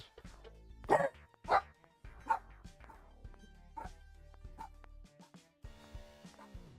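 A dog barks several times indoors, with loud yapping barks at first, then softer intermittent woofs and yips spaced over a few seconds.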